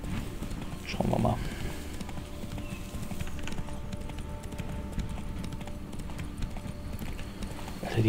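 Horse hooves clip-clop at a steady trotting rhythm in The Witcher 3 video game, close and continuous, with a brief snort or whinny and someone talking over them.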